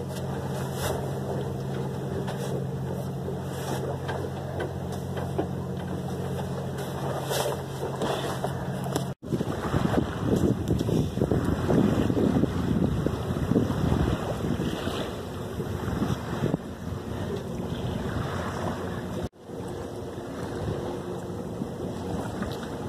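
A sailboat under genoa crosses the Sea of Cortez from Guaymas, with steady wind buffeting the microphone and continuous rushing water along the hull. The sound stays loud and unbroken for the whole stretch.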